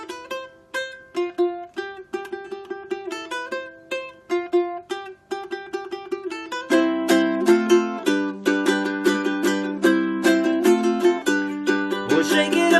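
Ukulele picks a song intro from tab, single plucked notes at first, then fuller strummed chords after a few seconds, close, clear and alone with no talk.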